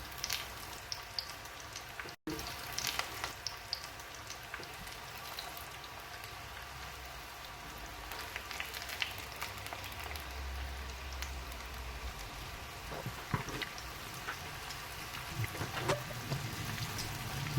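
Shrimp deep frying in hot oil, a dense crackling sizzle with scattered pops, steady and close, briefly cut off near the start.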